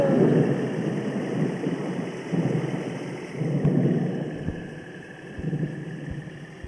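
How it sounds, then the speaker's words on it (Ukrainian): Distant thunder rolls in several low, drawn-out rumbles heard from inside a truck cab, with faint engine hum underneath and a few small knocks. "О, ще один Гримить."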